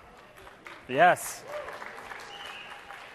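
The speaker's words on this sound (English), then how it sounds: "never before have 3 combo boxes received that much applause" Conference audience applauding at a software developer talk, a short burst of clapping that swells briefly, with a presenter's voice speaking around it.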